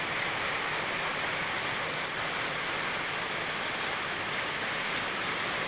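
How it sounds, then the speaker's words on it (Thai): Heavy rain pours down steadily in a Thai rural setting, a dense, even hiss of falling water that holds at one level throughout with no voices. "ฝนตกเทือที่สอง"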